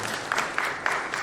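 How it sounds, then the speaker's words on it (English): An audience at a talk event applauding, a dense, steady patter of clapping that lasts about a second. "Big round of applause for"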